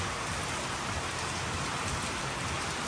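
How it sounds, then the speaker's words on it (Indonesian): Steady rain falling outdoors in Medan, a dense even hiss of drops on surfaces that continues unbroken and fairly close, with no voices. "Ini masih hujan ini."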